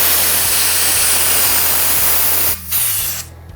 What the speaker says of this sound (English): if you've got an air hose, which is much faster, I just hold that valve open and then